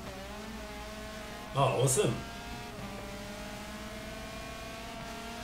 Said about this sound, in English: this safety car handles quite well